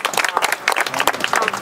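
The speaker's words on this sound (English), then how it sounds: "Round of applause for that" Audience applause at a news conference, a short burst of dense clapping from a room of people, close and fairly loud, with a few voices mixed in.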